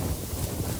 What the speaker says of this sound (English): Gosh, windy now.